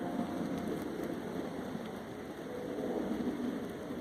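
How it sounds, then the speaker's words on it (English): Rain falls steadily outdoors during a walk with distant thunder about, a faint, even hiss of drops on surfaces that continues without a break. "as long as you don't mind walking in the rain"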